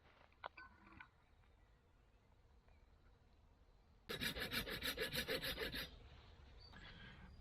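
Hand tool cutting notches into wood for a bushcraft camp table outdoors in a forest: a few faint scrapes early on, then a loud rhythmic rasping saw-like stroke sequence, followed by softer scraping.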